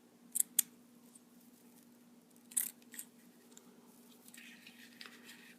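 Scissors snip through a strip of yarn or scrubby material for a crochet flower scrubby, two quick close clicks followed by another cut a couple of seconds later, quiet and alone.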